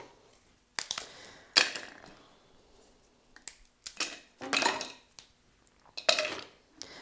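Plain biscuits are snapped apart by hand for a no-bake dessert, giving several sharp, close crunching cracks in irregular bursts with quiet pauses between them.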